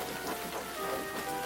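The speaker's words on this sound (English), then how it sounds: "It was a rainy, muddy day on the island of Soda." Steady rain falls on a muddy island setting, a continuous even hiss of drops on surfaces with no voices, holding at a moderate level throughout.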